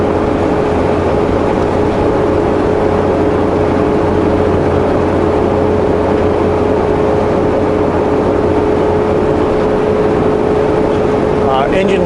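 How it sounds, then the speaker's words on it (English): A truck engine drones steadily from inside the cab with the engine fan running, a constant low rumble and a fixed tone beneath it, while someone talks over the noise. "You hear the engine fan coming on and off."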